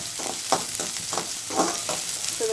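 Kurma ingredients for biryani sautéed in a pan: rhythmic scraping strokes of a spoon, roughly every half second, over a steady frying sizzle, close and clear with no voices.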